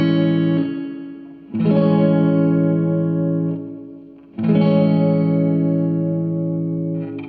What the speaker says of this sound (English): It's meant to imitate those old school spring reverbs that they used back in the day in traditional guitar amps.